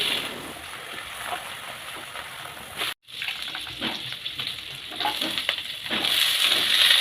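Onions are stirred and fried in a pan for a potato and papad curry, giving a continuous soft sizzle with scraping stirs that brightens and intensifies toward the end after a brief silent break.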